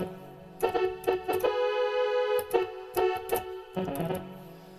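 Piano playing a zone theme from Sonic 2, a run of chords and short stabs with a held chord in the middle, clear and alone.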